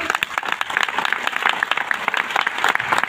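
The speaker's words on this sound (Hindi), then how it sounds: "एक बार जोरदार तालियां बजाइए।" An audience applauds at a promotional event in India, a dense, steady burst of many hands clapping close by, with some crowd noise and a voice faintly underneath.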